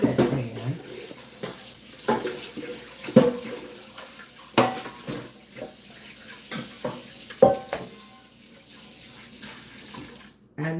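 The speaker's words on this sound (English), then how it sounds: "The pan I did the tuna in, I gotta clean that out." Washing out a pan used for cooking tuna at a kitchen sink, with running tap water and intermittent clanks and scrapes of the pan and utensils, close and uneven, ending with a brief silence.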